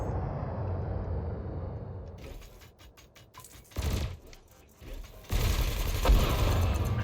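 Ship weapons firing in the space game Elite Dangerous, heard as a rapid volley of loud bursts and booming blasts over a rumbling engine background, in several bursts.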